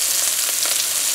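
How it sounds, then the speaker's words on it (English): Steady close sizzle of eggplant frying in a pan with scallions, celery, garlic and pepper, a continuous hiss with faint crackles and no voices. "So we're gonna fry this up for about 30-45 seconds."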